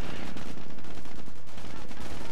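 Rapid, loud machine gun fire from a wartime strategy game, a continuous rattling burst of closely spaced shots with a voice talking underneath.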